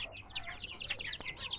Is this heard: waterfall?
no